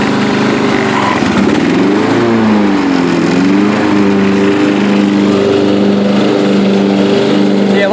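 A Yard King riding lawn tractor with a Walbro carburetor mows in third gear, its engine droning loudly and continuously up close, the pitch dipping and rising as the load shifts, with a voice talking over it.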